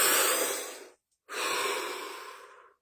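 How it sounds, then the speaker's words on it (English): A deep breath, a long close inhale followed after a brief pause by an equally long, slowly fading exhale, no talk. "Deep breath."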